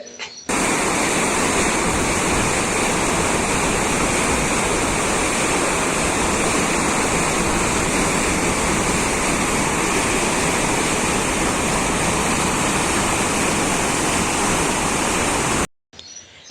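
River water from the filled Basava Sagar dam on the Krishna gushes in a loud, steady roar that fills the recording from start to finish without a break.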